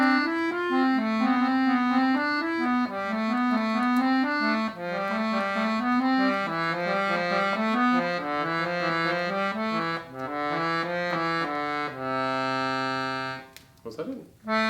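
An accordion plays a descending scale exercise from the Palmer-Hughes Book 2 method, a close, steady run of reedy notes stepping downward note by note, finishing on a sustained chord and a short clatter.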